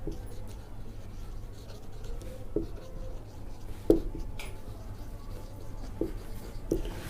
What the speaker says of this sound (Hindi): अब यहाँ पर हम लिखेंगे बाय पाइथागोरस थ्योरम।